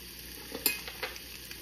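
French toast and sausage sizzle faintly on a griddle, with a soft steady frying hiss broken by a few light scrapes and taps of a utensil.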